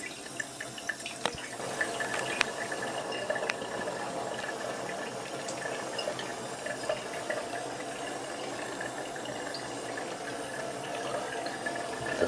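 Distilled 96% spirit from a home still dripping and trickling steadily into a container, with faint bubbling and a few sharp clicks, close and quiet with no talk.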